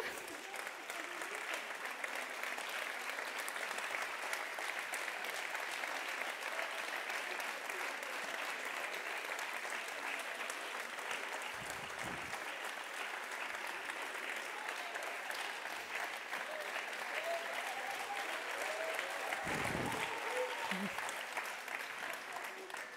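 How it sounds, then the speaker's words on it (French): Sustained audience applause at the close of a conference on new governance and alliances, a broad even wash of many hands lasting over twenty seconds, with a few brief voices underneath. "Alors peut-être applaudir."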